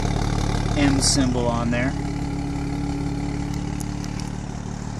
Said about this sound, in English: here you can hear it a little bit just while it's idling